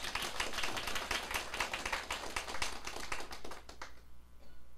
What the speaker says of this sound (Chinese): 大家甲拍手。